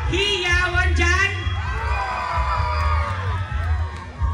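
A pageant audience cheers and shouts together, a loud sustained crowd roar with whoops rising and falling across the clip.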